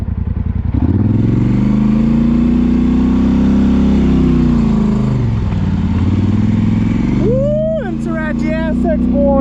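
Polaris Sportsman ATV engine running loud and close, a steady rumbling drone that rises and falls with throttle, then a voice shouting over it near the end.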